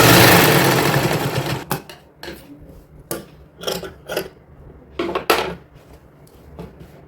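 A sewing machine stitches fabric for a little girl's designer outfit in short, separate bursts, with a louder whirring run at the start and then brief stitching spurts with quiet gaps between them.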